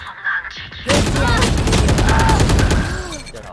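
Rapid automatic gunfire from the video game Valorant bursts in loudly after a short pause and rattles on in a dense, sustained stream before easing off near the end.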